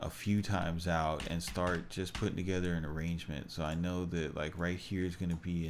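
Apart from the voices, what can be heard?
None of the usual background noises is heard.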